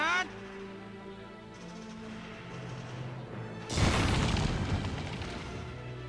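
A grenade goes off in Valkyria Chronicles with a sudden heavy boom followed by a rumbling, crackling decay that trails off over game music.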